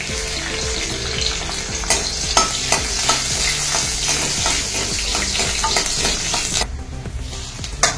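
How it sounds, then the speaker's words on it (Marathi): Garlic and green chillies crackle and sizzle steadily in hot oil in a kadhai, with scattered sharp pops and occasional stirring scrapes throughout. "तेलाला चांगला ताव आला की त्यात मी लसूण आणि हिरवी मिरची सोडणार आहे।"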